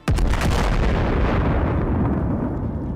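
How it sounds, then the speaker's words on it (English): A heavy, loud explosion from a targeted weapon strike on a military position booms with a few rapid initial blasts, then a long rumbling roar that slowly fades. "The attack begins with a targeted strike on one of the positions."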